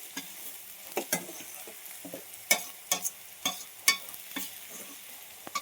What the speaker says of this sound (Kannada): ಇದನ್ನು ಕೂಡ ಫ್ರೈ ಮಾಡ್ಕೊಳ್ಳಿ ಚೆನ್ನಾಗಿ.